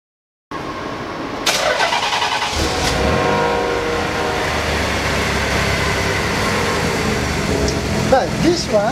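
A Datsun 240Z S30 with a swapped VG30DET turbo V6 cranks, fires and settles into a loud, steady idle with a slight rev near the end, at a dyno day on 91 pump gas at 12 psi.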